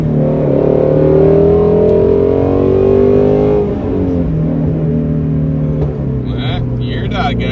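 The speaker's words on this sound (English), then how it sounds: "I've become pretty proficient now with my heel toe and the blipping and everything before downshifting." A Shelby GT350 engine revs loudly with throttle blips during heel-toe downshifts, a steady, close drone rising in pitch and then dropping, with a few sharp higher bursts near the end.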